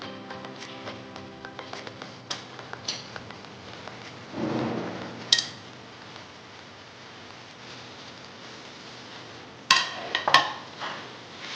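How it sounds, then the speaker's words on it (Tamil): A spoon scrapes and clinks in a pan as grated coconut is stirred into sugar syrup for coconut burfi, with intermittent taps and a few louder metallic knocks against a quiet background. "இந்த 250 கிராம் சர்க்கரை பாகுக்கு 250 கிராம் துருவின தேங்காவை நான் போட போகிறேன்."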